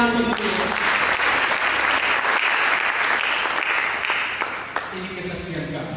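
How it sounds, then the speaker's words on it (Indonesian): Congregation applauding during a church service sermon, a loud sustained roar of many hands clapping for several seconds, thinning slightly near the end. "Berikan tepuk tangan bagi Tuhan."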